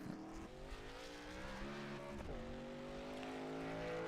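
Race trucks in the USRA TNT Truck Series at Auto Club Speedway rolling onto the track, several engines droning with shifting pitch that rises and falls, moderately distant, no talk.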